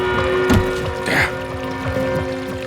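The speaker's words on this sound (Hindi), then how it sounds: "पानी की आवाज।" Water splashing and pouring in a hotel room, with a few irregular gushes and trickles standing out over a steady background hum.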